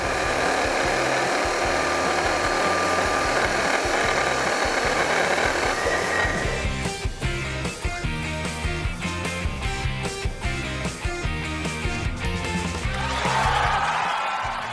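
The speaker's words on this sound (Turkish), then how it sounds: "ağırlığı matkap yardımıyla döndürüyor." An electric drill whirs steadily at first, then runs with a rapid, pulsing rhythm as it spins a weight, loud and close.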